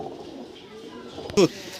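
Pigeons in a loft at a village home, birds being readied for flying, give soft low coos in the background, then one louder, brief throaty coo near the end.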